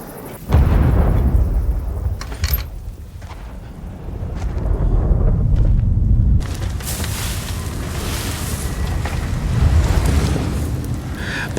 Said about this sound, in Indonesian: dia langsung dikagetkan sama suara ledakan pesawat jatuh.